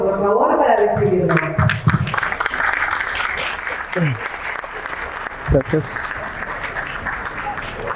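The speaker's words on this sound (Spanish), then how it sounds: "Pido un cálido aplauso," Audience applause at an agricultural expo talk on ozonated oils, a steady wash of clapping that continues through the clip while a voice speaks briefly over it.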